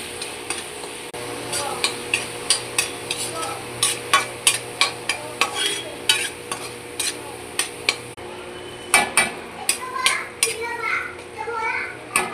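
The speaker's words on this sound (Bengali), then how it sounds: "এখন মশলাটা 2-3 মিনিট ভেজে নেব।" Spice paste of turmeric, chili powder and salt fries in a pan for Bata fish curry with potato. A spatula scrapes in sharp, regular strokes about twice a second over a soft sizzle, with children faintly audible in the background.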